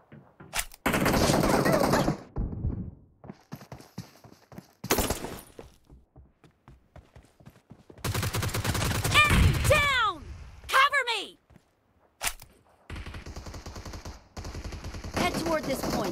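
Automatic gunfire from a team deathmatch video game rattles in loud bursts of rapid shots, separated by short gaps and overlapping game voice callouts.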